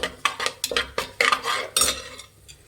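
A metal spoon stirs cinnamon, cloves and dried fenugreek leaves in a pan for cauliflower biryani, making about ten sharp, uneven scrapes and clinks up close that fade out near the end.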